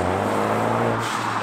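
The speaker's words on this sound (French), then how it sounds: "il fait son launch control" Ford Focus ST/RS engine held at launch control, a loud steady drone with a strong low hum, easing slightly near the end, close and without speech.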